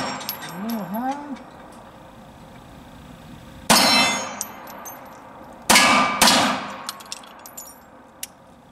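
Shots from a Smith & Wesson Shield 380 EZ pistol strike a steel plate, giving two sharp ringing clangs a couple of seconds apart, loud and close at an outdoor range, with a bird chirping faintly early on.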